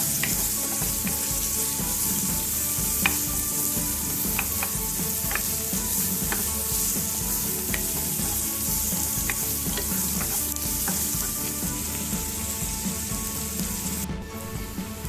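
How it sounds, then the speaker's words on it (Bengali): Sliced onions fry in hot oil in a kadai while kadai paneer is being made, giving a continuous close sizzle with light scraping and clinks from stirring throughout, and no voices. "পেঁয়াজটা লাল হওয়া অবধি ভাজতে হবে।"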